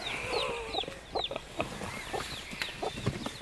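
Hens moving into a hen house cluck and chirp in a busy flock, with repeated short calls and soft rustling up close, nobody speaking.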